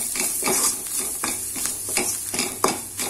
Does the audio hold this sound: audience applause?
no